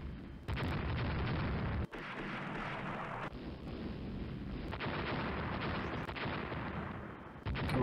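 Naval gunfire and shell hits on warships in the naval strategy game Rule the Waves, a dense, continuous rumble of booms and explosions with abrupt breaks, loud and unaccompanied by speech.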